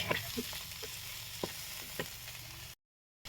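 Spice paste of onion, garlic, ginger, cumin and chilli powder frying for a meat curry, a close, low sizzle with a few soft stirring knocks, cutting off abruptly near the end.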